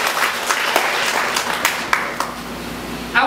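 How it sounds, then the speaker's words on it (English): Church congregation clapping in praise to God, a loud dense burst of applause with a few sharper individual claps standing out, thinning slightly before a fresh swell at the end. "Let's give God a clap of praise"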